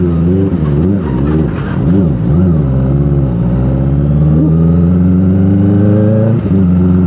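A limited-edition Kawasaki ZX-25 motorcycle on a test ride along an open road: its engine revs up and down sharply at first, then settles into a loud, steady, high-pitched drone close to the rider.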